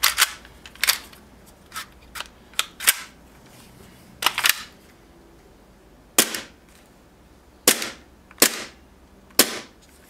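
A Tokyo Marui M&P airsoft gas pistol is test fired, giving about a dozen sharp snapping shots at irregular intervals, some in quick pairs, close and crisp over a quiet background.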